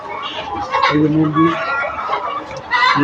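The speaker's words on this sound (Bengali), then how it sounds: "পাঁচ হাজার মুরগি আছে" Layer hens in a poultry shed holding about five thousand birds cluck and squawk continuously and close by, a busy overlapping flock chorus with faint human voices beneath.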